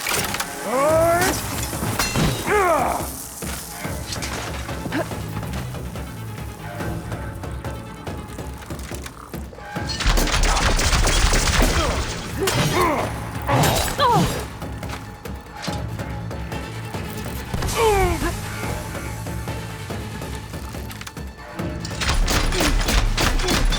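Combat in Horizon Forbidden West: repeated weapon shots and impacts over a dense game soundscape, with bursts of heavier firing and crashing and a steady roaring background throughout.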